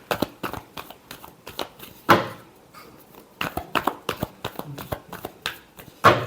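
Tarot cards being shuffled by hand, a quick series of crisp riffling snaps and slaps, close and fairly loud, with short pauses between bursts.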